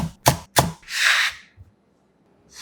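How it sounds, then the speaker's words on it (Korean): Two sharp knife strikes on a cutting board are followed by a longer scraping swipe as chives are finely chopped for a tomato dish garnish, close and clear in a quiet kitchen. "고명으로 올릴 쪽파 약간은 잘게 송송 썰어주세요"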